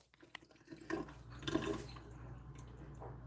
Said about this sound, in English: You grab this little faucet here and you just turn it on.